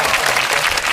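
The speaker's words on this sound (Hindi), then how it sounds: "तो बुलाते हैं फिर उनको आप लोगों की भरपूर तालियों में" Studio audience applause on a Pakistani comedy talk show as a guest is welcomed, loud dense clapping that holds steady throughout without any talk.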